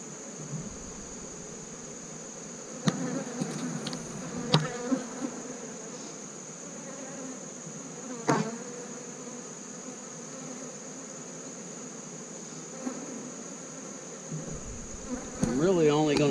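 Honeybees buzz steadily around an open hive during a colony inspection, a continuous insect drone with occasional brief louder passes near the listener and faint handling noises.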